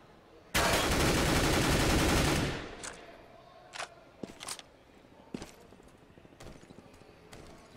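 A loud, sustained burst of automatic rifle fire in the CS:GO map de_cache runs for about two seconds, followed by scattered single gunshots and footstep-like clicks at a moderate distance.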